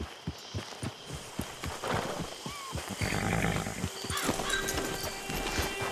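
A horse in Red Dead Redemption 2 clip-clops along in a steady rhythm of close hoofbeats, then snorts and whinnies amid rustling ambient noise, with no talk over it.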